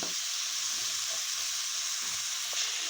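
Prawns fry in a pan for a cauliflower curry, giving off a steady, close hiss of sizzling oil that holds evenly throughout with faint stirring and no voices.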